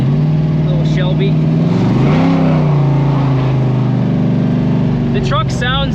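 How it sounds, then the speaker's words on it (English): An S10 pickup truck's engine drones loudly from inside the cab while driving. The deep, steady exhaust rumble rises briefly as the engine revs mid-drive, then settles, with a voice heard over the noise. "The truck sounds good. This thing's a riot. It's super loud."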